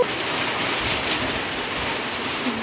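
Heavy rain pouring down in a dark, stormy spell, a constant broadband rush of drops hitting surfaces, close and fairly loud, no speech.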